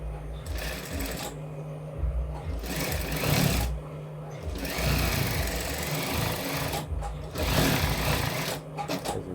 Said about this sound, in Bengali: এখন এখান থেকে এটাতে চাপ সেলাই দেবো